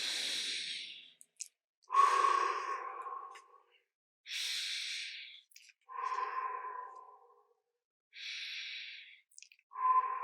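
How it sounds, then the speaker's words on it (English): Yoga breathing practice with slow inhales through the nose alternating with exhales through slightly pursed lips, several breaths in a steady rhythm, close and alone in a quiet room. "we're going to inhale through the nose and exhale through the mouth, through maybe slightly pursed lips"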